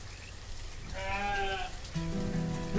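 Sheep bleat in the farming city-builder game Banished: a short wavering bleat followed by a second, louder and steadier one, both near and clear over a soft rain-like hiss.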